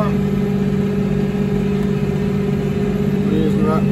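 A tractor engine runs steadily under partial load while planting a cover crop at night, a continuous near drone with a constant low hum throughout.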